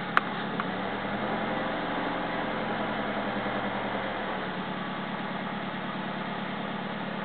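Steady idle from a Toyota RAV4 engine just after a cold start, on a manual 5-speed with 108,000 kilometres. The low, even rumble runs close and loud for the whole stretch, with a brief click near the start.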